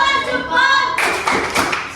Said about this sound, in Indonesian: Oke, kita berikan tepuk salut semuanya.